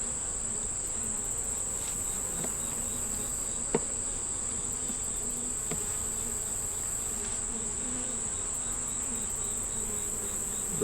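Honeybees drone around an open hive with brood frames and a young yellow queen, a steady, dense buzzing close by that never lets up, with a few faint clicks and no voices.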